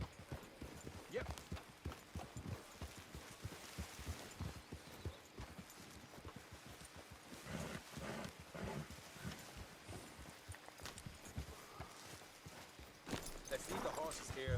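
Horses' hooves clip-clop along a trail in the game Red Dead Redemption 2, a rapid uneven run of close hoofbeats with occasional louder bursts, while people talk over them.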